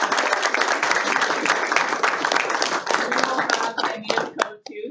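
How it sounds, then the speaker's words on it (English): An audience at a hockey analytics workshop claps in a dense burst of applause that thins out and breaks into scattered final claps near the end. "just everyone a round of applause for"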